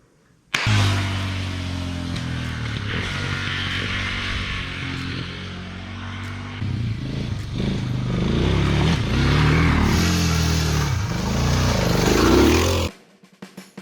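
A Suzuki DR650 dual-sport motorcycle with a tubeless-converted rear tire rides steadily, its engine droning loud and close for about twelve seconds with rising revs near the end, then cutting off abruptly.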